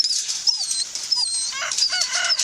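Dogs at feeding time on a rural morning as they are given bread, with repeated whining, yelping calls and short barks close by, while fowl make high chirping and crowing-like sounds in the background.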